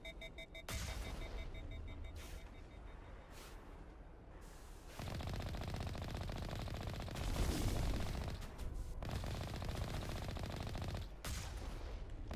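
Sustained automatic gunfire pours into a hulking Colossus in Mass Effect Legendary Edition, dense rattling bursts running almost without pause and swelling louder in the second half, with no talking.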